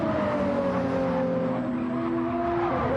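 Gr.4 race cars in Gran Turismo give a continuous, loud engine roar with shifting pitch as they accelerate and rev, with possible tyre squeal, with no speech.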